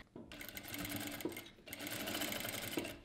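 A JACK 9100BA sewing machine stitches fabric in two loud, close, continuous runs of rapid mechanical whirring, separated by a brief pause where the stitching stops.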